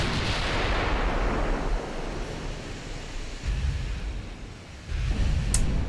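Secondary guns on a warship in a naval battle game, a dense rolling barrage of booming shots and rumbling blasts, with a fresh volley breaking out near the end over continuous low roar.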